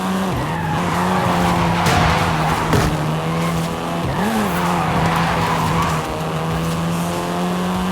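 A Volkswagen Golf R races hard in Forza Horizon 5, its engine droning loudly and steadily while tires squeal and skid through turns, with a brief pitch dip as it shifts.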